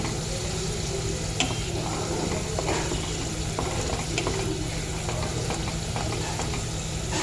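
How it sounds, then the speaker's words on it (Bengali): Spice masala for chicken kosha is stir-fried in a pan, giving a steady, close sizzle with scattered scraping clicks of a spoon stirring through it, with no talk over it. "মশলাটা ভালো করে কষিয়ে নেব"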